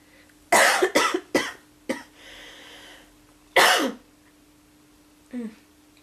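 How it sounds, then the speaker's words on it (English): A few sharp coughs in a quick cluster, followed by a quiet throat-clearing and another single cough, close up, then a short sound near the end. "but I got a cough"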